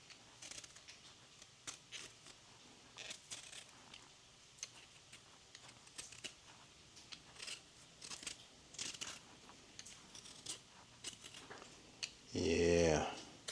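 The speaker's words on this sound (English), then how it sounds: "now we're gonna come back and peel this other potato here" A potato peeled by hand in a home kitchen, with a string of quiet, close scraping ticks and short strokes at an irregular rhythm, ending in a brief louder burst of a voice.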